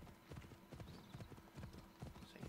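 Horse hooves clip-clop steadily as a mount is ridden at a brisk gait in Assassin's Creed Odyssey, a rhythmic run of close, fairly quiet hoofbeats with faint background ambience.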